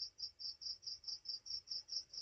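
Crickets chirp just outside a window in hot weather. The calls come as a steady, evenly spaced pulsing trill, about five pulses a second, fairly faint and alone with no voices.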